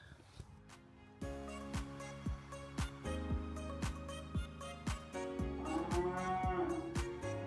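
Several cows moo in long, low, overlapping calls, fairly close and loud, one after another with almost no break.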